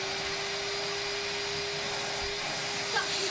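A George vacuum cleaner running without its brush or head attached during a suction test: a steady, loud motor whine and airflow hiss that carries on throughout, with a slight bump near the end.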